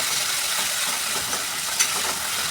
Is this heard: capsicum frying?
yes